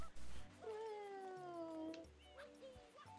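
A person's voice imitates a cat's meow with a drawn-out, falling mewing tone, faint and mixed with other voices and soft background sound.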